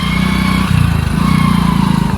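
At a petrol pump, a motorcycle engine idles loudly and close by with an even, rapid throb throughout, and no voices.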